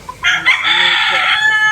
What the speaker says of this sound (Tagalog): Tamo, manok ni tatay mo.